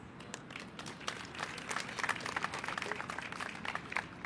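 An audience at a speaking event applauds a speaker taking the stage, a fairly faint but continuous patter of many hands clapping that swells a little midway and carries on to the end.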